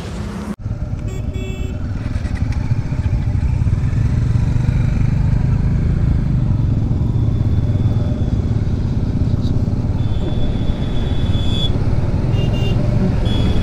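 A group of motorcycles out on highway NH 12, a steady loud engine drone with road rumble, starting after a brief thump and holding constant throughout.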